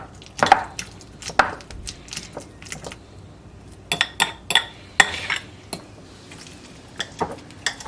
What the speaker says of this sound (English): Just kind of taking the fork, smashing the avocado along the sides.